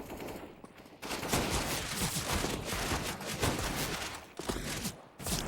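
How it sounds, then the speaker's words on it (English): Counter-Strike gunfire from a Scout sniper rifle, a Deagle pistol and AK-47s in a match on Dust 2, dense rapid crackling of rifle shots and bursts that runs almost without pause and overlaps heavily. "A Scout and a Deagle out-dueling 3 AK-47s."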